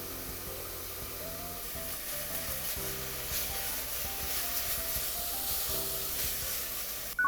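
Soffritto vegetables with rosemary sauté in a pan for a chicken tomato pasta sauce, giving a steady, even sizzle and hiss that runs on without talk.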